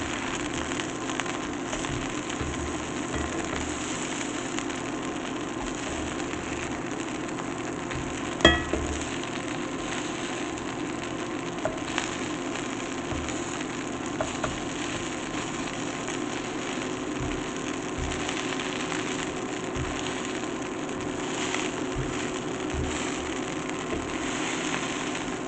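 Vegan burger patties for a mac-style burger sizzle steadily on a hot cooking surface, a continuous crackling fry with a few faint metallic clicks and scrapes, no voices over it.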